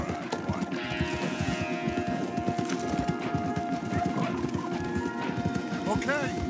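Horse hooves clip-clop in a rapid, steady rhythm as horses move along a path in the video game Red Dead Redemption 2, close and continuous throughout, with a faint whinny-like tone near the end.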